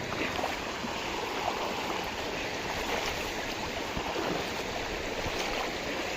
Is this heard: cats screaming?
no